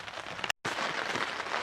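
Rain pattering on the roof of a garden polytunnel, a dense, even hiss of drops close overhead, broken by a brief dropout of silence partway through.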